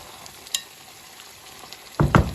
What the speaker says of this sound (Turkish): Karıştırayım bakalım.